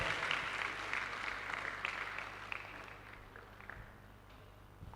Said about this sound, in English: Professor Alex Asigbo, a round of applause for him